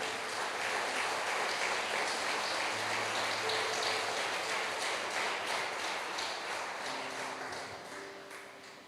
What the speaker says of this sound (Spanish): Dale un aplauso al Espíritu Santo.